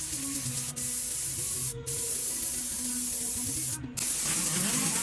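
A spray gun lays base coat onto a car body during an auto body spot repair, giving a steady, close, continuous hiss with two brief pauses where the trigger releases.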